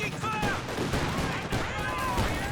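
Gunfire and explosions rumble in a Company of Heroes 2 2v2 battle as an anti-tank gun goes into action, a dense continuous barrage of shots and blasts, with game sounds layered under it.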